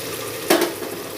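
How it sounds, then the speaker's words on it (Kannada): Spice paste of garam masala, ground coriander leaves, green chilli and ginger-garlic paste frying in a pan on low gas: one short, close sizzle and stir burst midway through an otherwise quiet stretch. "ಗ್ಯಾಸನ್ನು ಸಿಮ್ಮಲ್ಲಿಟ್ಟು ಇದನ್ನು ಫ್ರೈ ಮಾಡೋದು"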